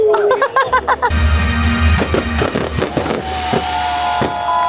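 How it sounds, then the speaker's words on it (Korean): A fireworks show in Singapore bursts loudly and continuously, with rapid crackling pops, a rising whistle and rolling booms layered over a dense, steady roar. "폭죽놀이까지 빠바방 쏘게 되면은."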